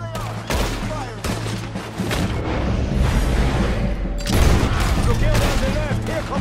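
A volley of gunfire in a train robbery video game, dense crackling musket-like shots and booming bursts rolling for several seconds, loud and close, then swelling again in a second barrage.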